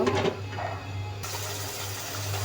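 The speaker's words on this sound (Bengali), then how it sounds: "এখন দিয়ে দেবো কষানোর জন্য পানি" Water being poured into a cooking pot of spices such as chili, coriander, cumin and salt for a beef and potato curry, heard as a brief steady rushing pour close by, fairly quiet, with no talking.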